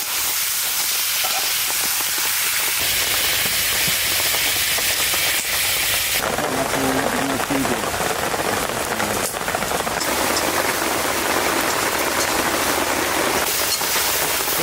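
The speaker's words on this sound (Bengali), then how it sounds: "এটা তেলের উপরে কষাচ্ছি তেলের উপরে একটু ভাজা ভাজা হবে" Young goat mutton, salted and rubbed with turmeric, sautéing in hot oil in a pan. A loud, steady sizzle continues throughout and grows harsher and brighter partway through, with faint stirring and no talking.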